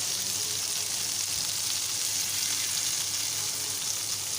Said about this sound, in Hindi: इसी तरह बाकी भी कबाब भी हमने फ्राई पैन में डाल दिए हैं, इनको भी अब हम कर लेंगे फ्राई।